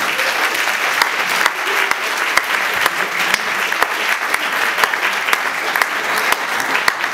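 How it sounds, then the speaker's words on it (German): Loud, dense audience applause in a bookshop event space in Altona, a steady wash of many hands clapping close by, sustained throughout without speech. "Ein großer Applaus"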